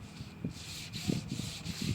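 Wooden dining furniture being scuff sanded before painting, close up: a steady series of short, rasping sanding strokes in an uneven rhythm, with no talking.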